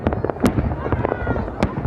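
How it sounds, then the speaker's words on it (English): Fireworks burst over Pyongyang at a birthday celebration for the leader, a string of sharp cracks and pops at irregular intervals, some louder bangs standing out against a rumbling crowd-like background. "An extravagance of fireworks entertains the chosen few."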